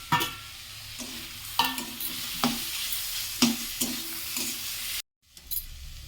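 Shredded cabbage with crushed fried chillies sizzles in a hot pan while a spatula scrapes and stirs it in repeated strokes, a steady frying hiss under the scraping, ending briefly in silence before the sizzle resumes.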